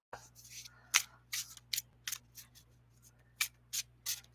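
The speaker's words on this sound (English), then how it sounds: "Feeling one more shuffle here." Tarot cards being shuffled in a series of short, crisp riffling bursts, roughly a dozen soft flicks in an irregular rhythm, close and fairly quiet with no talking.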